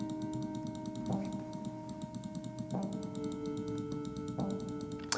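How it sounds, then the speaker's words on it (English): Loud, steady clicking from a computer mouse at a desk, a quick run of small sharp clicks close to the mic, heard alone over faint room hum and some tonal background music. "my mouse is just hilariously loud right now, just clicking away"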